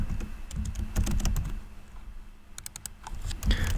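Rapid typing on a computer keyboard, close and clear, with uneven clusters of key clicks and a brief lull midway before another quick burst.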